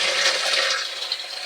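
Container being filled with water drawn from a deep well, giving a rushing, splashing pour that stays steady, then eases slightly near the end.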